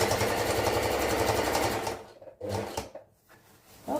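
A sewing machine stitches fabric for baggy pants, a steady fast mechanical whirring for about two seconds that then stops, followed by a few short clicks and handling sounds close by.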